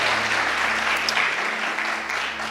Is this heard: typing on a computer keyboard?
no